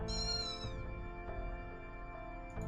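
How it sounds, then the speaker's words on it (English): A cat meows in the Fate/Grand Order video game, one long drawn-out mew opening the clip and fading into a steady layered background of game music, with no talking. "Was that a cat?"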